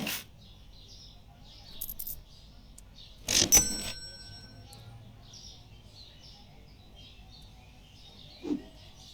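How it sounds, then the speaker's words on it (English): A customer bell rings in a supermarket video game, a short bright metallic ding-like burst mid-clip with a couple of fainter chimes and small tweet-like game sounds around it, otherwise quiet. "I just hear people ringing my bell."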